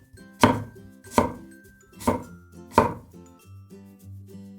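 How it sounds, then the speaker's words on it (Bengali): Onion being chopped with a knife on a cutting board, four sharp, close thuds in an uneven rhythm with a pause after the last, in a quiet kitchen without talk. "এরপর পেঁয়াজটাও কেটে নিচ্ছি"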